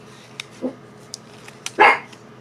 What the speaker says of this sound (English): sorry about that. It was my puppy.